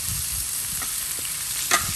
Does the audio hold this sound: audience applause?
no